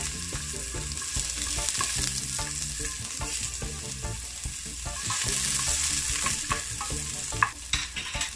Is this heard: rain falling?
no